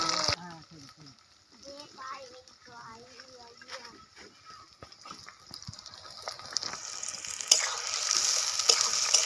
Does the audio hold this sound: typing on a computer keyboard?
no